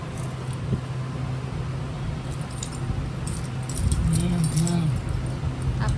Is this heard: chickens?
no